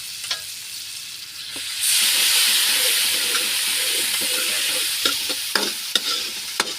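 An egg fries in a clay pan with a soft crackle that swells into a loud, steady sizzle. Scattered taps and scrapes of a utensil sound against the pan, close by, with no voices.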